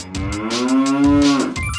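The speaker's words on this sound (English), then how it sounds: "It's a cow." A single cow lets out one long, clear moo, close and loud, rising slightly and then trailing off.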